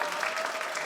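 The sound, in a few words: applause sound effect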